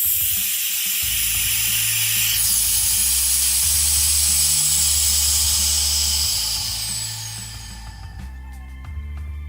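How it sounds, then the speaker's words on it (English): Air rushes back into an evacuated vacuum chamber as a loud, steady hiss lasting several seconds, with a mechanical pump hum pulsing underneath, before the rush fades away at the end. "letting air back in the vacuum"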